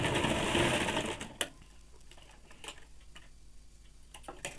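A sewing machine runs a single line of stitching on a woolen baby frock, a close steady whir that stops after about a second, leaving light ticks and handling clicks.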